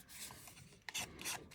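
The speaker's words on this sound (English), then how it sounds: "I'm really going to rub it on this" Paper edge rubbed firmly against an ink pad for a card-making collage, a close, soft scratchy rasping with two stronger strokes near the end.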